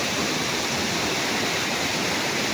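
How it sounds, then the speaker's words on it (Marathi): Water stream pouring down between two rocks at a rain-fed waterfall in Konkan, Sindhudurg, a steady, dense, full-bodied rush of falling water heard close up, continuous and unbroken throughout with no voices. "2 दगडाच्या मधून जो प्रवाह पाण्याचा पडता"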